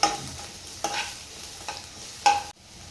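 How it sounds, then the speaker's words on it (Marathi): Sliced onion sautés in oil, a soft, steady sizzle punctuated by three or four scraping strokes of a spoon against the pan, close and fairly quiet. "तर इथे हे कांदा आहे तो सुद्धा छान परतून घ्यायचा आहे"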